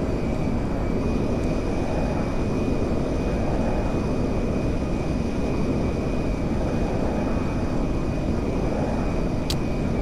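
Military transport aircraft droning steadily while descending on approach to Fort Zancudo in GTA 5, a continuous loud engine roar with a thin steady whine above it, unbroken for the whole stretch.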